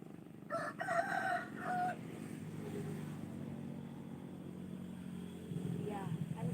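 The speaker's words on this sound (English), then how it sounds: "It's actually afternoon today, but I don't know why they are cockadoodling like that." Roosters crow in the afternoon, with one clear harmonic crow early on that sounds fairly near, followed by a low steady background rumble and another faint call near the end.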